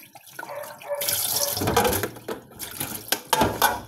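Dishes being washed at a sink with a limited water supply: running water splashes and gushes close by, with clinks and clatters of plates in quick irregular bursts.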